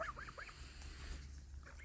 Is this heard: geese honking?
yes